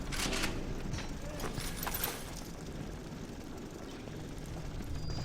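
A flying drone in the video game BioShock gives off a steady whirring, buzzing hum that holds at a fairly even level, with a slightly louder start, over about five seconds.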